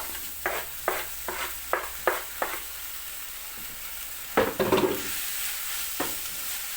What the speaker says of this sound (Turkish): havucuyla patatesi de aynı şekilde kavuracağım.